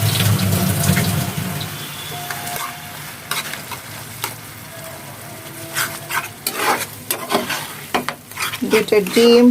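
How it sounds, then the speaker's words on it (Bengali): A tomato and capsicum mixture with eggs stirred and fried in a pan, soft sizzling under irregular scraping strokes of a utensil that grow busier toward the end. "পুরো টমেটো ক্যাপসিকাম এই মিশ্রণের মধ্যে ভালো করে নেড়ে চেড়ে 2 মিনিট রান্না করে নিব।"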